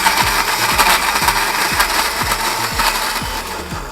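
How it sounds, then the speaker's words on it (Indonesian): A blender grinds a spice paste with added oil and coriander, a loud, steady high whir with repeated low rhythmic knocks as the blade churns the mixture, close and continuous with no talk. "Sekarang kita tambahkan minyak untuk memudahkan kita memblender."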